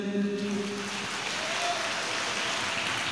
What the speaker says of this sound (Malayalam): എന്നെല്ലാവരും ഒന്നുകൂടെ കൈയടിച്ച്